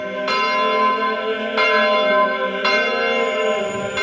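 Hand-pulled cathedral bells swing at full peal, ringing out loud and full, several strikes overlapping in a rich, sustained peal with no voices.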